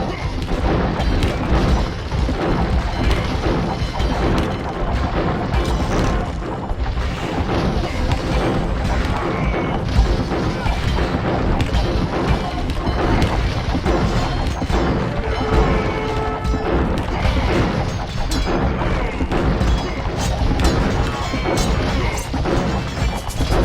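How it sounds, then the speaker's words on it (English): Bombard cannons in a siege video game fire again and again at siege rams, giving a dense, continuous stream of loud crashing impacts and booms with no break in the battle din. "So many bombard cannons from Cerberus."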